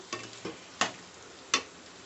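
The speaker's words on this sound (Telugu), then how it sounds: "బీట్రూట్ మంచిగా కలుపుకోవాలి" Beetroot and onions stirred in a pan for curry, four soft scraping strokes of a spoon against the pan at an irregular pace, close and fairly quiet with a faint sizzle beneath.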